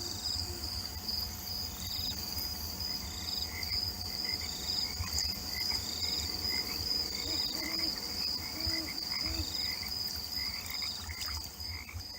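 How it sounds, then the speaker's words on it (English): Frogs croak steadily in a yard at night, a dense chorus over the continuous high trill of crickets and insects, evenly loud throughout. "Hello, frogs."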